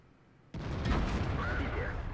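Tank cannon fire in World of Tanks, a T-54 engaging an enemy tank: one sudden loud boom after a quiet start, followed by a sustained rumbling roar of battle noise, with commentary talk underneath.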